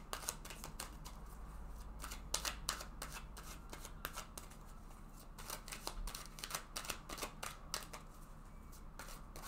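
Tarot cards are shuffled steadily for several seconds with crisp, rapid riffling and snapping, close and clear, with no talking.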